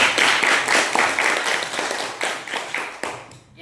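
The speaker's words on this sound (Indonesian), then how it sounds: "Ya, tepuk tangan." A classroom of students claps together in a steady, dense burst of applause during a guidance session, the clapping filling the room before cutting off abruptly near the end.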